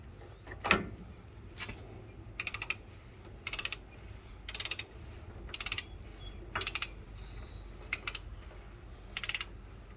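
A torque wrench being set on an International 1654 tractor for a wheel seal job: a series of short, quiet, close ratcheting clicks in regular bursts, with pauses between turns.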